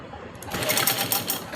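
A sewing machine stitches elastic for an Afghani salwar in a continuous, close, steady whir that holds throughout.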